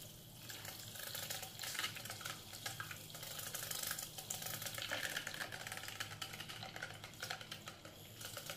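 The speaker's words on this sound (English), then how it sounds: "Okay, and we start whisking" A mixture of cocoa butter, beeswax and olive oil set over ice is beaten with a hand whisk, quick rhythmic clicking and scraping strokes against the bowl, fairly close and steady, with no voices.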